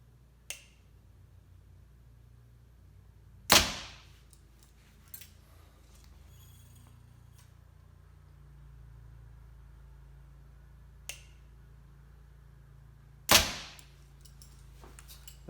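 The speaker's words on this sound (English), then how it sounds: "I'm going to shoot the 420 first" An Elite REZULT compound bow shooting a 420 spine arrow indoors, with two sharp loud release cracks about ten seconds apart and a few lighter clicks and taps between them in a quiet room.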